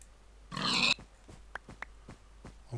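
A Minecraft pig lets out one loud, close grunt, followed by a few faint clicks and soft game sounds.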